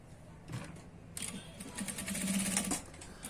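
A sewing machine stitches a pant pocket seam in short mechanical bursts, the whirring rising and then stopping, close by and without speech.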